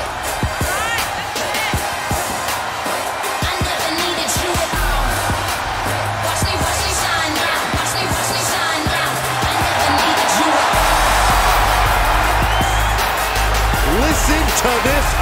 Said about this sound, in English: Listen to this ovation. The WWE Universe loves cheering on the EST.